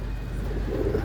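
Breeding pigeons in a loft coo softly and continuously, a low murmuring close by with no talking.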